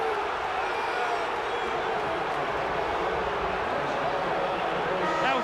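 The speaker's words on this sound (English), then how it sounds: "Listen to the crowd." Roaring basketball arena crowd at a 1990 Chicago Bulls versus Cleveland Cavaliers game, a loud sustained wash of voices and cheering under a commentator's talk.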